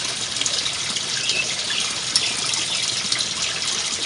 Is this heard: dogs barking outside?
no